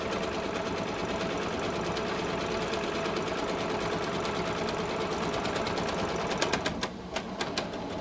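A sewing machine runs a seam on a fabric face mask tube in a fast, steady whir that holds for several seconds, then breaks into a few quick separate clicks as it stops.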